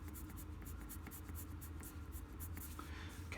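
Colored pencil scribbles back and forth on paper in a quiet architectural drawing demo, giving soft rhythmic scratchy strokes repeating rapidly at close range with no voice.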